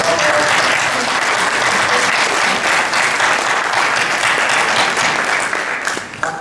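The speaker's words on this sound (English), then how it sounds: "Let's give her a round of applause" A lecture audience applauds at a talk on policing, incarceration and racial profiling, a dense, steady round of many hands clapping that fills the whole stretch and tapers slightly at the end.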